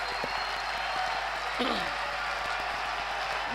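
A church congregation claps in a dense, sustained wash of applause that fills the room, with a voice calling out over it.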